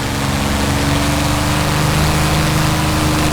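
A steady, loud Spitfire piston engine drones at constant pitch during takeoff in a flight simulator, a throaty mechanical hum with no talk over it.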